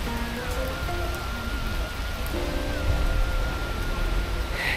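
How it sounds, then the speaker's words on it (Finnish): Heavy downpour at Westerplatte near Gdansk, Poland, just after stepping off a bus, a dense steady hiss of rain on surfaces with faint tonal hums from nearby traffic or engines underneath. "Siis ihan just alkoi heti tämä kaatosade, kun pääsi linja-autosta ulos."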